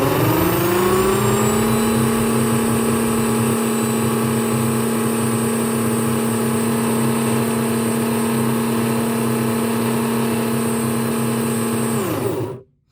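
Race car running on a dyno, its engine note ramping up and holding a loud steady high-speed whine with strong harmonics for about twelve seconds before cutting off abruptly.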